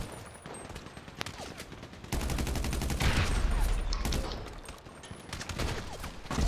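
Rapid automatic gunfire from a high-capacity gun in GTA 5 Online during a parkour deathmatch, a loud dense stream of shots rattling on for several seconds with brief lulls.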